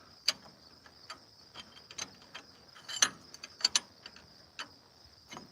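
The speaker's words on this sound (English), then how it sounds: "So that's called just breaking the nuts loose" Sharp metallic clicks and ratcheting ticks from a wrench breaking loose the nuts and bolts on a tractor, irregularly spaced, close by, over a faint steady background hum.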